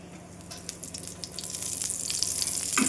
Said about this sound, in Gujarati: અને હવે તેને આપણે તેલ નાખીને શેલો ફ્રાય કરી લેશું.